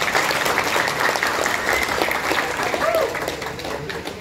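An audience at a Tangerang Selatan civil service agency event applauds, sustained dense clapping filling the room before easing off slightly at the end.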